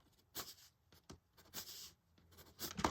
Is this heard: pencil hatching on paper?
yes